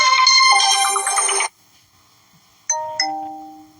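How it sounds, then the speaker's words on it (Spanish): A Motorola mobile phone rings for an incoming call. A bright melodic burst of tones plays for about a second and a half, then after a pause two clear chiming notes sound and fade, close and alone. "A Willy me está llamando."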